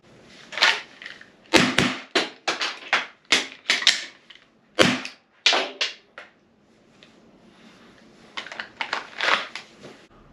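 Handguns firing Simunition FX marking blank rounds, a string of sharp, close cracks in an uneven rhythm, with a pause in the middle before a second group of shots.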